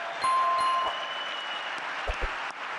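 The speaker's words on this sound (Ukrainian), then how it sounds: "Йому знову аплодують стоячи." A standing ovation for Trump, a broad wash of crowd applause heard somewhat distant and steady, with a few brief tones and low thumps near the end.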